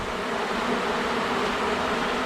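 Honeybees buzz in an opened hive in a house, a dense, continuous droning hum heard close up, with no talking.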